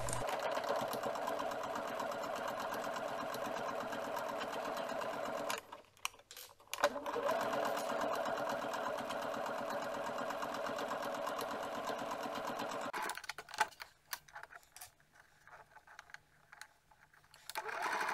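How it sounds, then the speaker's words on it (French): A domestic sewing machine runs a straight stitch about 1 cm from the edge of pinned terry-cloth fabric for a hair-drying cap, whirring steadily and close up with two short pauses, then stopping near the end. "on va venir piquer au point droit 1 cm du bord la partie épinglée"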